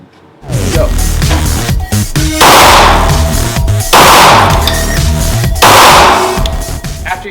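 Repeated gunshots echo inside an indoor shooting range at Shooter's World in Peoria, loud, sharp reports in irregular bursts with ringing reverberation between them.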